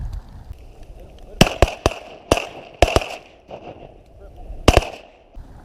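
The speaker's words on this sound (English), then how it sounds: "Shoot these two, shoot these two. Shoot them, shoot 'em." Shotgun blasts fired at diving ducks during a snowstorm: about eight sharp, loud reports come in quick clusters over a steady wind-like background, with excited shouting between them.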